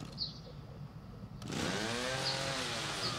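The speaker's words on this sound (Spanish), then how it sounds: "Bueno, tenemos la motosierra" A chainsaw starts up in The Evil Within horror video game, with a steady close engine drone that kicks in partway through after a quieter, scratchy stretch.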